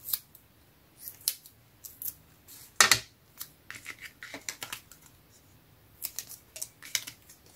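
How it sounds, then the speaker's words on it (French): Scissors snip through paper scraps from card-making offcuts in a string of short, close crisp cuts, some clustered and others spaced apart, with light rustling of paper between the snips. "je vais prendre mon ciseau."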